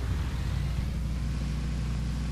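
A car engine in the PUBG battle royale video game, a steady low droning rumble that runs close and even for the whole short stretch, with no talking.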